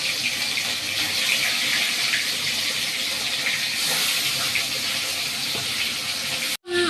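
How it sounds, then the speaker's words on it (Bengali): Fish dropped into hot oil in a home kitchen, a steady bright sizzling hiss of frying that runs continuously and fairly loud, with no talk over it. "এখন আমার তেলটা গরম হয়ে গেছে, তো আমি এখন তেলের মধ্যে মাছটা ছেড়ে দেব,"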